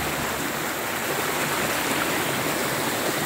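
River water rushing steadily over rocks near Craig Hill waterfall in Tobago, a close, constant broadband roar with no break.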